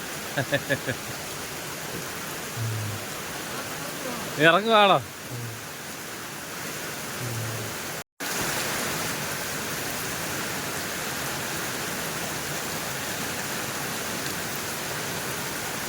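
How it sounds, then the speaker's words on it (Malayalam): Heavy rain pours steadily at a fishing spot in Kuttappuzha, Kerala, a dense continuous hiss throughout, with a brief spoken question and a short electronic chirp near the start. "മഴ കണ്ടോ നല്ല കിടുക്കാച്ച മഴ"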